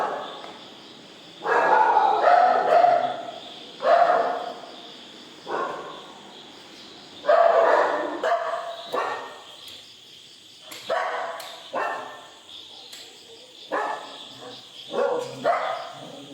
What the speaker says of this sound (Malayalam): 2 കൂടെ മണ്ടേ പോയി കിടന്ന് കുരയ്ക്കുന്നുണ്ട്